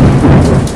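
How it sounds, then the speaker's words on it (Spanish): Heavy rain pours loudly and steadily in a dense, continuous roar with a deep rumble underneath, and no voices are heard. "¡Ya empezó a llover más fuerte!"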